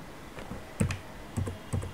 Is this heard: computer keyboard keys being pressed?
yes